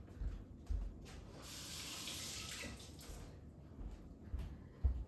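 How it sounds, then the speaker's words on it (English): Water runs steadily from a kitchen tap while hands are washed beneath it, a close, continuous hiss with splashy changes as the hands move through the stream. "now we're going to wash my hands"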